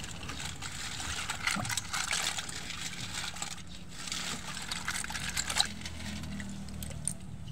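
Water splashes and trickles over seashells being rinsed and washed by hand, a close, continuous wet sloshing with small clinks.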